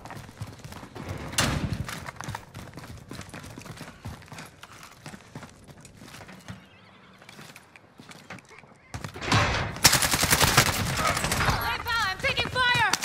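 Gunfire in Call of Duty on Rebirth Island, rapid bursts of shots throughout, with a loud dense volley near the end and a voice speaking in between.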